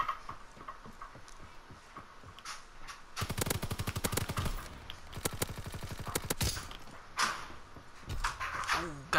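Semi-automatic gunfire in Call of Duty: WW2 multiplayer gun game, rapid cracking shots in several bursts mixed with game effects, with a player talking over the action.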